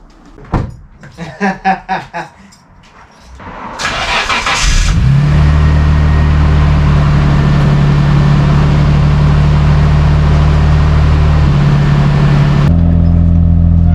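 A Nissan Skyline R32 GTR: several sharp mechanical clicks and clunks, then the engine cranks and settles into a loud, steady, close rumbling idle that drops off abruptly near the end.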